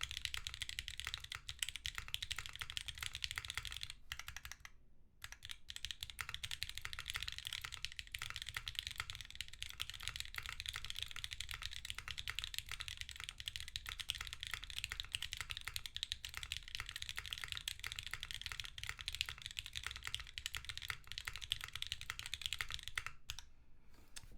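Keys clatter steadily on a Cappy 60 keyboard with DCS keycaps on an aluminum plate and a rattly spacebar, a fast continuous stream of quiet, close clicks with a couple of brief pauses.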